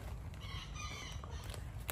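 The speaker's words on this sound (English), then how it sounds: "even though I don't need 18 roosters" A rooster perched on top of a chicken coop crows once outdoors. The call is moderately loud, set against steady background noise.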